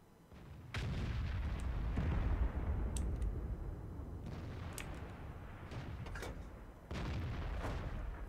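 A self-propelled artillery gun in World of Tanks fires with heavy booming blasts, several loud shots spaced a few seconds apart, each followed by a rumbling tail and scattered distant impacts.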